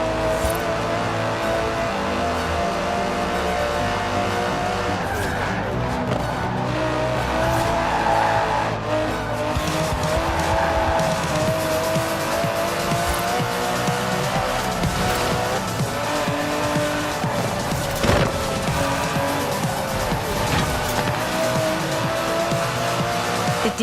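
An Aston Martin DB11 drives in Forza Horizon 4, its engine droning steadily and loud throughout with repeated tire squeals and skids as it corners, no voices heard.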